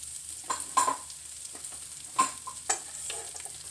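Vegetables frying in a pan before eggs are added, a soft steady sizzle with a few scraping stirs and clinks from a utensil, close and fairly quiet.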